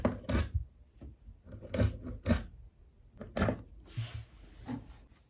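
Scissors cut through fabric for a flared sleeve pattern in a series of short, quiet snipping and rasping strokes close by, with pauses between them and no speech.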